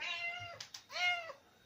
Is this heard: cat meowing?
yes